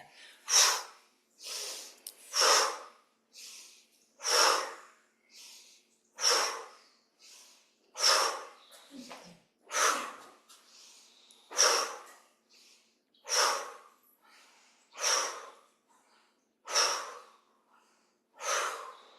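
Deep rhythmic qi gong breathing repeats in a steady cycle, about a dozen strong close breaths alternating inhale and exhale, each a broad airy rush with brief quiet gaps between, no speech.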